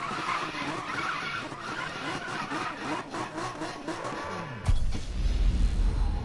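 A GT race car in a racing video game skids with a sustained tire squeal over a revving mid-pitched engine, ending in a sudden loud low-end thump or boost that stays heavy to the end.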